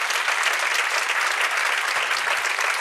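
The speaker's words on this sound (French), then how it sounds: "On peut évidemment les applaudir." An audience at a literary presentation in a theatre hall applauds the readers, a dense, even wash of many hands clapping steadily with no voices over it.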